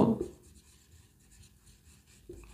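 A pen scratches out a math answer during a statistics lesson, soft scribbling strokes running steadily for a couple of seconds at low volume.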